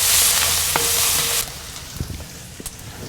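Minced garlic and diced shallots sauté in a cast iron wok over a Kamado Joe grill. A loud sizzle runs for about a second and a half and then drops to a quieter crackle, with a few scattered stirring clicks.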